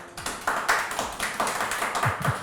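A small studio audience on a talk show claps in response to the host, loose, uneven handclaps in short bursts, fairly close and moderately loud.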